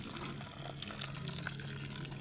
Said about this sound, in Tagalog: banlian nyo lang ng mainit na tubig